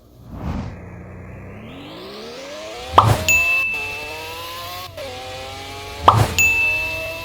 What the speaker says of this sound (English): let's check out this acceleration and the top speed